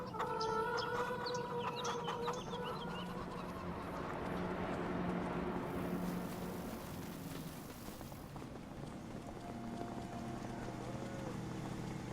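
Chickens from a large delivery of about 8,000 birds cluck and chatter continuously in a dense, noisy mass, with a steady engine-like rumble underneath from the delivery truck nearby.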